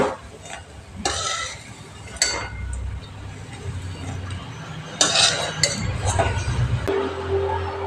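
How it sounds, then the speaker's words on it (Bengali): Fried red lentil fritters lifted out of hot oil with a metal spoon: sharp clinks and scrapes against the pan over a low sizzle, several distinct knocks at uneven intervals. "এবার আমি বড়াগুলো তেলের থেকে তুলে নিচ্ছি।"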